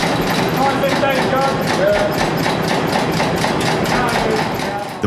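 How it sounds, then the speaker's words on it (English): An old British Polar engine runs with a deep, heavy, even thumping rhythm of firing beats, close and loud, while someone talks over it. "The British Polar is one of those engines you hear before you ever see it."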